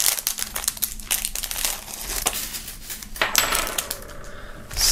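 Items from a Megaherz Komet box set being freed from plastic film, with close crinkling and crackling of the wrap, sharp rustles and small hard clinks of objects, continuous and fairly loud with no talk.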